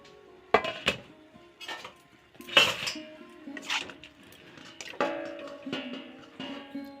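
Metal clanks and clinks as a lid is set on a cooking pot of jackfruit: several sharp, close knocks and rattles spread over a few seconds, with quiet gaps between them.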